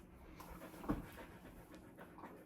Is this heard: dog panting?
yes